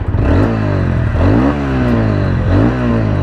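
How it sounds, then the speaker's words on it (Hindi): A 2024 TVS Ronin 225 BS7 motorcycle runs close by, its exhaust rumbling at idle and rising in several quick revs with a throaty note. "सबसे पहले तो मैं आपको एग्जॉस्ट हम सुना देता हूं।"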